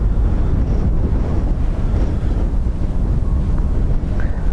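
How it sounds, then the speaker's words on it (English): Steady, loud wind buffets a camera microphone outdoors at Dublin Airport, a continuous low rumbling roar with no letup, plus a faint distant tone near the end. "You can probably literally see the resistance in the wind as I turn into it there"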